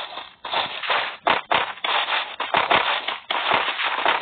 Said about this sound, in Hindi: हम लोग यहाँ ले रहे हैं MP40 जो की बेहतरीन गन है,